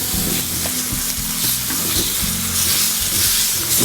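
Chicken with soy sauce, vinegar and green chillies cooking in a pan on low heat, a steady close sizzle with a low hum running underneath, no talking.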